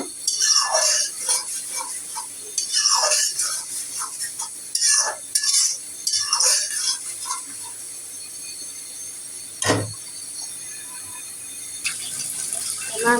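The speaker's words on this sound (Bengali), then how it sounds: "তো মশলাটা এখন আমি ভালো করে কষায় নিব।" Turmeric, chili, coriander and cumin powders being sautéed in a pan while a utensil repeatedly stirs and scrapes, making close, rhythmic metallic scraping in bursts with a steady background sizzle.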